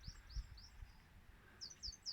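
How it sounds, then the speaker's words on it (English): Small birds chirp and tweet outdoors on a farm where a downer cow is being nursed over winter, faint scattered calls over soft low rumbling, no voices. "And the birds are singing and the sky is blue and the sun is shining."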